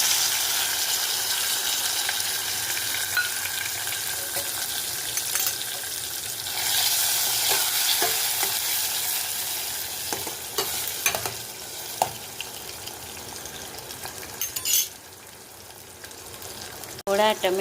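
Tomatoes tossed into hot oil with garlic chutney for a Kathiyawadi sev tameta curry sizzle loudly and close, with stirring scrapes and clatter breaking through the steady frying hiss.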